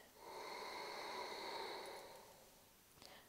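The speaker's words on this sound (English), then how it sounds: "Gently contracting the back of your throat to find Ujjayi breath. So breathing in and out with a soft ocean sound." A soft, steady exhale of ujjayi yoga breath through the nose, with the throat gently constricted to give a hushed, ocean-like rush that swells and then fades over about three seconds, close and quiet.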